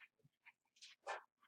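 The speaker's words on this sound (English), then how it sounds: "there's my dogs. They gotta sound off." Dogs sounding off indoors in a home, a few short, faint barks and yips in quick irregular succession, heard at a distance with no talk over them.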